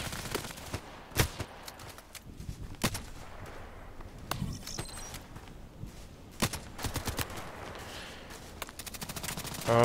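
HK417 rifle fire in a shooter game: sharp, separate gunshots at irregular intervals, some loud and close, others fainter, with low background noise and no talk.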